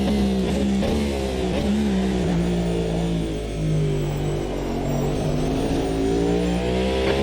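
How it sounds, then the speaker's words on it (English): V8 race car engine in a Le Mans LMDh racing video game, a continuous loud droning engine note with wavering pitch as it revs and shifts, steady throughout with no talk. "Probably can hear it behind the V8 noises."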